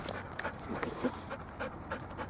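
A dog pants in quick, rhythmic breaths up close, steady and fairly quiet, with no talking.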